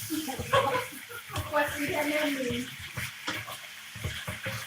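Food stir-fried in a pan, with sizzling and the scrape and clatter of a utensil against metal, while people talk nearby.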